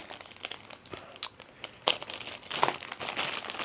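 Blue packing paper crinkling while unboxing 3D-printing add-ons, a near, busy rustle of scattered crackles and crumples with a few louder crunches, heard alone.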